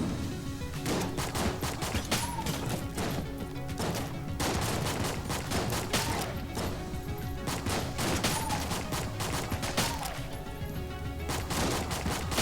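Rapid volleys of enemy gunfire in the twin-stick shooter Enter the Gungeon, dense bursts of shots and impacts crackling continuously over game music with no break.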